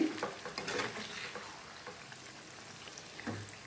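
Chicken and gongura leaves cook in oil for a chicken gongura pickle, giving a soft, close sizzle. A couple of brief stirring scrapes come at the start and again near the end.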